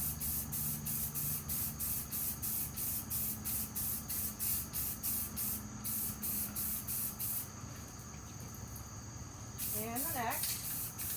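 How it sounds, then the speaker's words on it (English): Short repeated bursts of spray paint dusting a light coat onto cups turning on a Lazy Susan, a steady rhythm of hissy pulses close by, with a person speaking over them for stretches. "I'm just going to dust coat it. I don't need a bunch of heavy paint on these."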